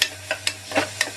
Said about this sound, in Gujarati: તેલ સેપરેટ થઈ જાય ત્યાં સુધી મસાલાને ધીમા તાપે સાતળીશું